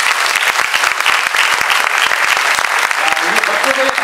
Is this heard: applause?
yes